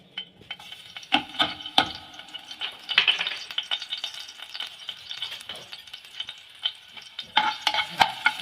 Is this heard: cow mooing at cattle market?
no